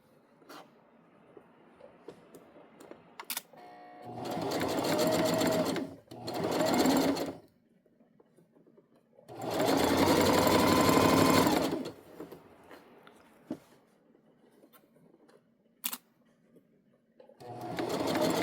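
A sewing machine stitches a seam on an unlined fabric tote bag in three runs of steady motor whirring, the longest about three seconds, separated by quiet pauses with a few small clicks.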